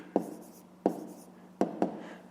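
Pen writing an answer on paper for a fifth-grade maths exercise, four quick scratchy strokes with a sharp onset, the last two close together, near and moderately loud over a faint background hum.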